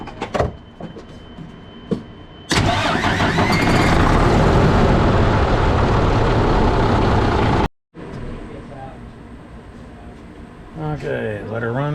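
An engine that has just had an oil change starts and runs with a loud, broad, steady roar for several seconds. It cuts off briefly, then idles more quietly while people talk nearby.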